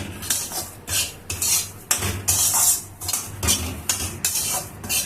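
Semolina dry-roasting in a pan for suji halwa is stirred steadily with a metal spoon, giving repeated close scraping clinks against the pan over a soft sizzle.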